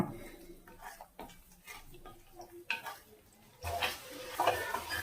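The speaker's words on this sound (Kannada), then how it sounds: "ಈಗ ಸ್ಟವ್ನ ಲೋ ಫ್ಲೇಮ್ನಲ್ಲಿ ಇಟ್ಕೊಂಡು ಮೊಟ್ಟೆನ ಚೆನ್ನಾಗಿ ಒಂದು 3 ರಿಂದ 4 ನಿಮಿಷ ಎಳೆಯ ಕಾವ್ನಲ್ಲೇ ಫ್ರೈ ಮಾಡ್ಕೊಳ್ಳೋಣ." Eggs fry in a pan on a low flame with moringa leaves while a utensil stirs and scrapes, giving faint intermittent scrapes and clinks and a soft sizzle that grows louder near the end.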